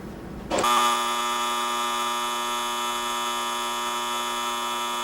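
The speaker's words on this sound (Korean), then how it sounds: "바닷물이 유입되는 호스는 적조 경보장치에 연결돼 적조가 발생하면 신호를 보내 어민들이 바닷물을 차단할 수 있도록 해준다." A red tide alarm device on a seawater intake hose at a land-based fish farm sounds off abruptly after brief quiet, a steady loud electronic buzzing tone that holds unbroken to the end.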